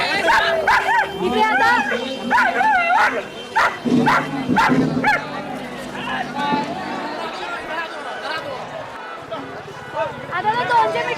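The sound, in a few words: dogs barking at a dog race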